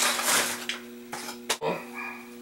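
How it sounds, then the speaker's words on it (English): A pet dog barks indoors, several short sharp barks in quick succession, fairly close, with a faint steady hum and no talking. "Sorry if you can hear my dog barking, Lula"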